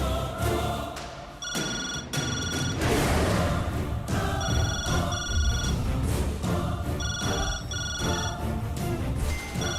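A telephone rings in a drama scene, with repeated electronic ring bursts in a steady on-off pattern under background music and ambient sound.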